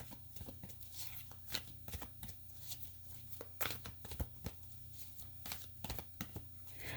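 A deck of cards being shuffled repeatedly, with crisp riffling bursts and taps over a steady low hum, close to the microphone.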